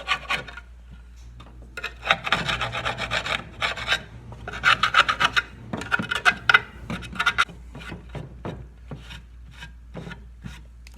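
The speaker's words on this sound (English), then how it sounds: "We're going to scrape off all the gasket material" Old gasket material being scraped off a Perkins 152 engine timing cover, repeated rasping strokes in uneven bursts, close and fairly loud over a low background hum, no talking.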